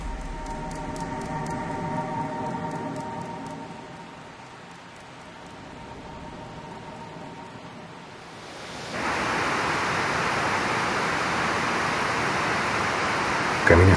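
An urban river flows beneath a bridge. Its broad, steady rushing roar is close and continuous, joined by tonal hum and fainter background noise in the first half, then swells louder and fuller from about nine seconds on.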